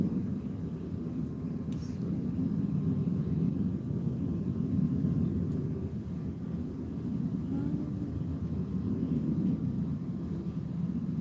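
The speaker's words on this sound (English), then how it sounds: "I hear a loud jet overhead." A loud jet aircraft passes overhead, a steady low roar that fills the whole stretch without fading, with no talking over it.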